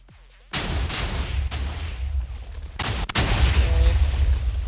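Minecraft sand TNT cannon, a 230 stacker cobweb buster, firing off a blast of dense, rumbling explosions that roll on for several seconds, with a second heavy burst of booms midway and no talking.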